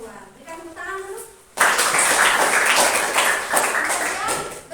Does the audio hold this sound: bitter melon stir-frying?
no